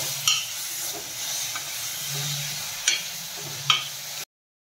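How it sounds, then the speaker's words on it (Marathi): Mashed roasted eggplant being stirred and sautéed in a pan for bharit, with a steady close sizzle and hiss broken by a few sharp scraping stirs, no voices. "आता आपण मॅश केलेलं वांग टाकून घेऊयात आणि आता हे छान परतून घेऊयात"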